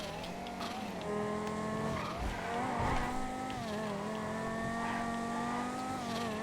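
Bravado Banshee GTS sports car in GTA Online braking hard from high speed, with tire squeal and skidding over a steady engine drone that shifts pitch, loud and continuous for several seconds without talk.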